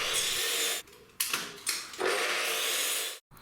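Timber pieces for a sink cabinet are cut with a power saw, loud bursts of buzzing cutting separated by brief dips and restarts, ending in a sudden stop, no voices.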